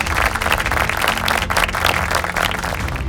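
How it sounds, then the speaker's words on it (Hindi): A studio audience claps loudly and continuously to welcome semifinalists at a family Bible quiz, dense applause filling the whole stretch without pause. "जोरदार तालियों से स्वागत कीजिए मिस्टर निर्दोष मिंज एंड"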